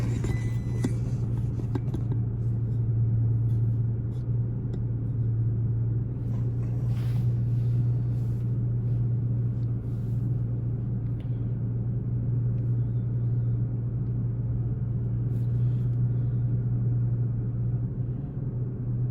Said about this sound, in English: all I'll do is I'll start up the truck